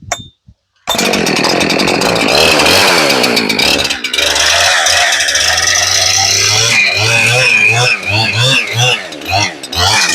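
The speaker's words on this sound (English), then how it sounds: "Let me just do it with a chainsaw." A chainsaw starts up and bites into an 18-and-a-half-foot wooden beam too long for a Norwood HD36v2 sawmill, loud and close, engine snarling steadily then bogging and revving in rhythmic pulses toward the end.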